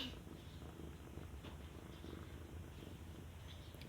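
A cat purring softly and steadily, a continuous low rumbling close by, faint and alone with no talk.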